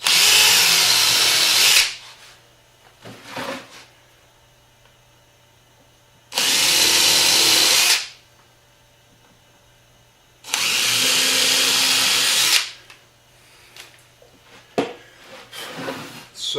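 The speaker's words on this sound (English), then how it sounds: "It works even better if you have the drill set to go the right direction." A power drill bores into a wooden board for a children's coat rack, three loud bursts of whirring separated by quiet pauses with small handling knocks between them.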